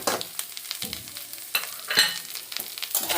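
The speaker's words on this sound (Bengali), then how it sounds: "ভালো করে আবার একটু নাড়াচাড়া করে নিতে হবে।" Spices being stirred into frying khichuri, a steady close sizzle broken by repeated scraping strokes of a spoon against the pan, with no voices.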